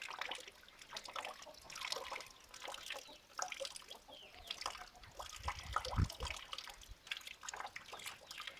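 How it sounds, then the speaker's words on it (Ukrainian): Steady soft patter of rain dripping and trickling, with scattered louder drops, continuous and fairly faint. "Так, сьогодні цілий день йде дощ."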